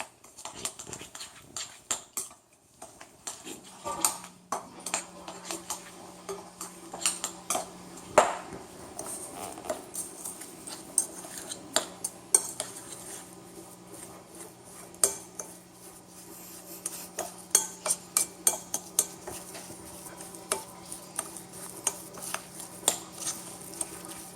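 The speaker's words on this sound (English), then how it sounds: "just go ahead and mix that together" A spoon works through oatmeal raisin cookie dough made with coconut oil, giving a long run of small clinks, taps and soft scrapes against the bowl, close and without speech.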